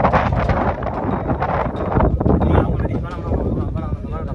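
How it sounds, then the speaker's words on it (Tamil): Strong wind buffets the microphone on the Velliangiri hill trek, a loud continuous roaring rumble. People talk over it throughout. "இல்லை காற்று ரொம்ப ஹெவியாக அடிக்குதா?"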